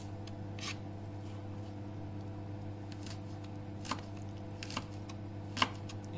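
Onion being chopped on a board in a home kitchen: a few faint, sparse knife taps over a steady hum, with one sharper cut near the end and no talking.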